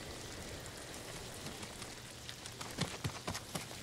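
Steady rain falls in the video game Ghost of Tsushima, a continuous wash of drizzle with a few sharper patters and faint thuds toward the end, with no talking over it.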